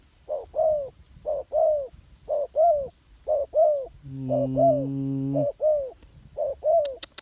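Repeated soft spotted dove coos in short rhythmic phrases, fairly close, with a brief low engine-like hum partway through.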